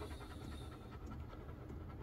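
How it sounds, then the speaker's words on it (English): A Belgian Malinois panting steadily and close by, worn out from chasing a frisbee, its rhythmic breaths blending into low outdoor rumble with no voices. "and that panting."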